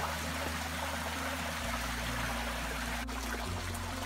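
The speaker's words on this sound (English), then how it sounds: "And the running water over here." Steady running water trickles and babbles in a stream at the Caldas de Monchique hot springs in Portugal, continuous and close, with no voices.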